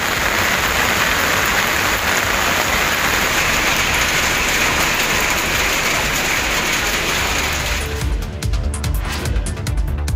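Heavy rain pours down over the town of Kumbakonam and its suburbs, a loud, steady dense hiss of downpour that holds constant throughout, with no voices.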